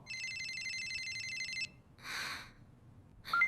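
A telephone rings in two bursts, a long electronic trill followed after a pause by a shorter ring, then a brief beep at the end, fairly close and with no talking.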